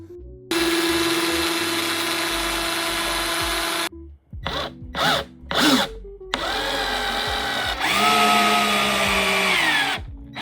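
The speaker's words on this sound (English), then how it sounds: "what I'm going to do is drill from the top down" A power drill drives screws into a DIY hamster enclosure, with long whirring runs broken by short stuttering bursts as the screws seat, close and loud with no talking.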